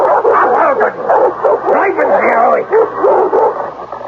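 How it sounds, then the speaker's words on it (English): A snarling dog barks and whimpers in an old radio mystery drama, its yips and bow-wows loud and close, mixed with voices talking over dense background sound. "roaming the property with his snarling dog"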